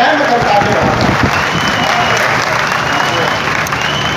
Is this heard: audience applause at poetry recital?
yes